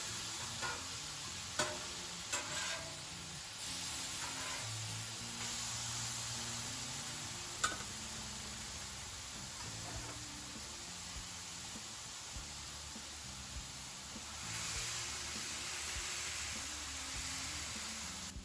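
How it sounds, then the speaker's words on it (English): Smashed vegan tacos sizzle on a Blackstone griddle, meat side down, giving a steady close hiss of frying broken by a few sharp ticks and clicks. "Let that sizzle for about a minute"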